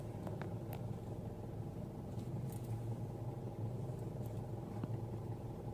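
Steady low rumble of a road traffic jam with a truck hauling mustard greens and cars nearby, engines idling and creeping at a river crossing near Palembang, constant and moderately close with no talk.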